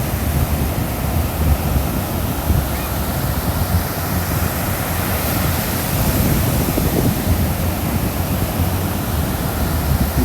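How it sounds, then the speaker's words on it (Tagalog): Big ocean waves roll in at Redondo Beach, California, a loud, steady wash of surf mixed with wind buffeting the microphone, with no talk. "Wow, look at that. Big waves."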